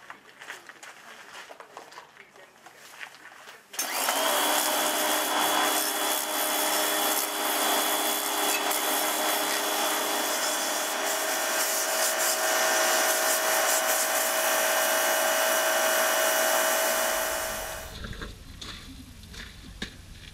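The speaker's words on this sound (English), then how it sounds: "I'm sanding these off, and where you've got an edge that's damaged here, I'm sanding that edge out." Sanding the damaged edges of boat propeller blades on a Sealine S34 outdrive. A loud, steady abrasive rasp starts abruptly, runs continuously for about fourteen seconds and then cuts off, with quieter background before and after.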